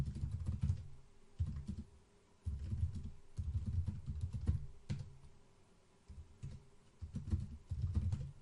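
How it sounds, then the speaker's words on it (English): Bursts of typing on a computer keyboard while launching a bash shell, clustered key clicks in several runs separated by short pauses, close and clear with no talking. "Launch bash shell is simply by typing"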